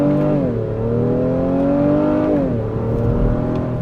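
A 2025 Honda Pilot Black Edition SUV pulls away from a standstill in first gear, its engine rising steadily in pitch under throttle, then dipping with a gear change before climbing again, loud and close with no talk.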